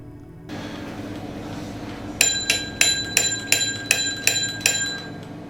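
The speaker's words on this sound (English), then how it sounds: "So finally attaching the bell, which is a requirement." Bicycle bell on a Cyrusher Zenith fat-tire e-bike, a few quiet handling clicks followed by about eight bright, evenly spaced metallic rings, close and clear.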